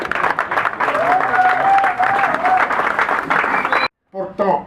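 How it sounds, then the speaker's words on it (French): Applause from an audience at a political party gathering in the Democratic Republic of Congo, loud and sustained for nearly four seconds, then cut off abruptly with a short burst of voices after. "On applaudit cet acte posé par le président."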